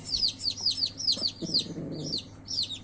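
A mother turkey with newly hatched chicks gives a low, murmuring cluck while the chicks' repeated high peeps sound close by in a quick, steady series.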